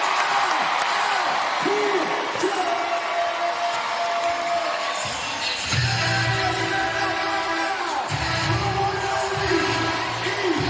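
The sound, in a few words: crowd cheering at Big3 basketball game in Oakland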